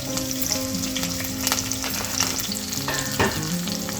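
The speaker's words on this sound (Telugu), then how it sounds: "ఇప్పుడు మనం దీంట్లోకి ఉల్లిపాయ, పచ్చిమిర్చి, కరివేపాకు వేసేసుకుందాం." Onion, green chili and curry leaves hit hot oil for a Telugu raw banana curry, crackling in a loud, dense sizzle with occasional stirring clatter, close up and with no voices.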